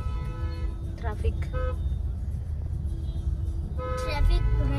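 Road traffic near Belmont in Karkala, with car horns tooting in several short bursts over a steady engine rumble, including a louder cluster of honks near the end.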